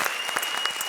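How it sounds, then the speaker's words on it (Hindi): A comedy show audience applauding a performing duo on a televised stage, a brief burst of steady clapping from a crowd. "जोरदार तालियां हमारी लाडली जोड़ी कृष्णा और सुदेश के लिए"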